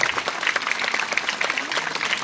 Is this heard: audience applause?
yes